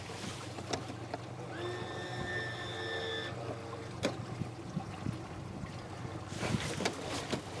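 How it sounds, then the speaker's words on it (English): A 2-meter radio-controlled boat runs across open water, its motor whine rising in pitch over wind noise, with splashes and knocks near the end. "This is a 2-meter radio controlled boat"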